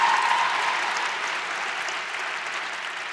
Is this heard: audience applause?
yes